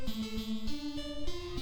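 A synth pluck pattern built from a saw wave in the Vital synthesizer, short bright plucked notes repeating in a steady rhythmic sequence, close and alone without any voices.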